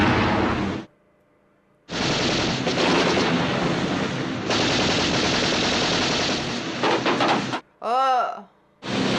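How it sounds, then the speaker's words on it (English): Gunfire in a boat chase from the 1963 film From Russia with Love, loud sustained bursts of automatic fire that cut off and resume, with a short gap and a sharp ringing ricochet near the end. "Give them a warning shot!"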